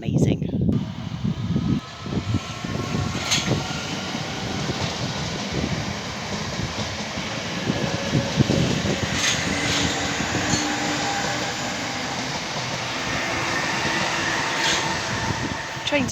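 A train rumbles past with a steady, rushing roar and a few clanks, loud and continuous throughout, while voices talk faintly underneath.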